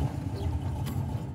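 A rough, sputtering engine in the video game Deponia Doomsday churns low and unevenly for a brief moment, as if struggling to catch.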